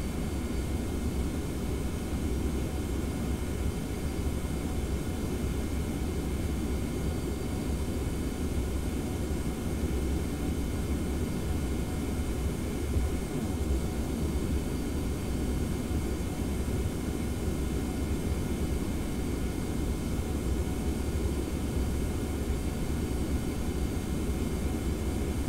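Steady, loud broadband roar of Boeing 717-200 jet engines spooling up during a flight simulator takeoff run at San Diego, a continuous even rumble holding throughout with no talking.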